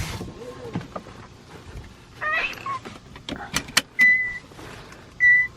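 A pet bird in a car imitates a car's starting beeps, giving short sharp chirps and electronic-like beeps scattered among quiet engine and cabin noise, with a pair of sustained beep tones near the end.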